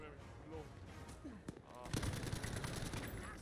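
Gunfire from a slow-firing medium machine gun in Battlefield V, bursts of shots and distant battle noise under someone talking.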